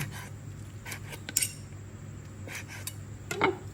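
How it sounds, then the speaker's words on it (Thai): A knife cuts through tender stewed beef on a board, giving several sharp, sparse taps and clinks at irregular intervals over a quiet kitchen background. "กำลังหั่นเนื้อเปื่อยที่ตุ๋น"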